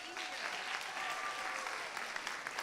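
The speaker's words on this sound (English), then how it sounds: "Let's give a big round of applause to the church" An audience at Lake Highlands Presbyterian Church applauds in a steady, full burst of clapping that runs the whole time at an even level, with no talking over it.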